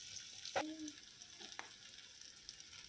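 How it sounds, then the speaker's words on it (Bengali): Onions and green chillies fry gently in a pan for a poha breakfast while being stirred. The sizzle stays faint and steady, and two sharp spatula clinks against the pan stand out. "দিয়ে নাড়াচাড়া করে হালকা করে ভাজবো।"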